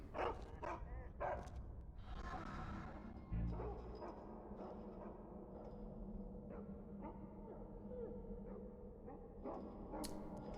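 Dogs barking in a video game about playing as a dog in a haunted setting, with repeated yips and barks of varying loudness spread across the whole stretch, some whimpering, and game effects and music underneath.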